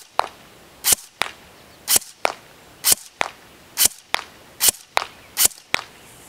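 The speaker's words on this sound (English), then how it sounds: "let's go ahead and test the range and accuracy of the Smith & Wesson M&P M4" A Smith & Wesson M&P 15 airsoft electric rifle fires single shots at a target from about 50 feet, giving sharp, close snaps that repeat roughly every half second, each followed by a faint distant tap.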